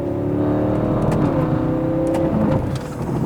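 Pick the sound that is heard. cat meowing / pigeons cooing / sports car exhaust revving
sports car exhaust revving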